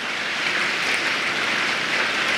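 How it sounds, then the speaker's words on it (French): Steady, dense rain hiss, continuous and even throughout, with no voices or other sounds breaking through. "ça fait non-stop de la pluie"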